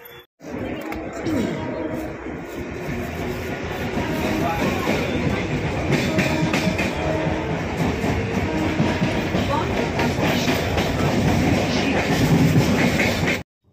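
Inside a nearly empty evening passenger train, a steady rumble of wheels on rails with rhythmic clickety-clack runs continuously and fairly loud, with faint chatter in the background.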